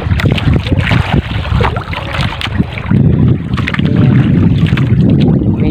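A fishing boat pitches on rough sea waves in a strong amihan wind. Loud, continuous wind roar and rumbling water fill the whole stretch, with no speech.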